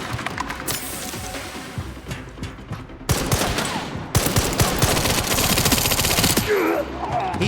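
Rapid bursts of gunfire in Resident Evil Requiem, loud and close, with a lull and then sustained heavy shooting, ending in a clattering tail.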